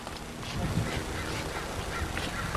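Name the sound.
birds at a water park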